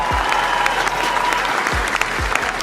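A crowd claps at a sports award ceremony in New Zealand for UFC fighter Israel Adesanya, a dense, even patter of applause at steady volume, with a few deeper thumps underneath.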